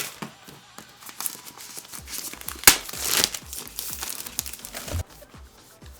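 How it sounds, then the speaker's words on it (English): Plastic wrap being ripped off a DJI OM 5 gimbal box: close, crackly crinkling and tearing in quick irregular bursts, with a sharper rip in the middle, no voices. "I rip off the plastic here"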